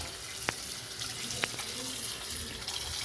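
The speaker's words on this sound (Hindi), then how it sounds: "अब इसको पूरा इसमें डाल के इसको अच्छा धो लेंगे नल के नीचे" Vegetables, including carrots and potatoes, are washed under a running kitchen tap as a steady hiss of flowing water, with two brief knocks from handling.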